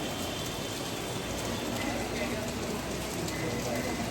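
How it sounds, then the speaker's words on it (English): Heavy rain pouring down steadily, a dense, constant hiss of drops on surfaces that fills the whole stretch with no let-up and no voices. "It's raining, it's pouring raining."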